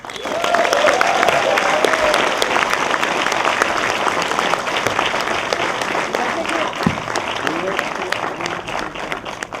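An audience at the LA Film Festival 2014 applauds a host at a Key & Peele comedy talk, with steady, dense clapping that fills the room throughout and stays loud from start to finish.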